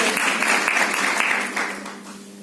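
Audience applause at a Swami Vivekananda Youth Day event at Arya Girls College, Ambala Cantt: steady, dense clapping from a crowd filling the whole stretch, fairly loud and then tapering off slightly toward the end, with no talk over it.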